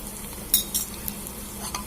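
Ginger garlic paste sautés with onions for mutton biryani. A few brisk spatula scrapes sound over a low sizzle, with a faint tonal hum behind.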